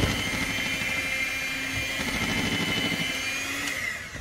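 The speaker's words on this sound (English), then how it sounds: "Then we're gonna mix well again with our hand blender." A handheld electric mixer whirs steadily through thick lemon cake batter, a loud close motor drone with a rattling beat that eases off at the end, no voices.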